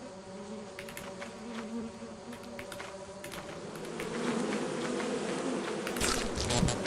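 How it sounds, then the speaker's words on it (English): Bees buzzing in a video game, a steady insect drone that swells slightly toward the end, mixed with clicking game sounds and no talk. "Wait, bees."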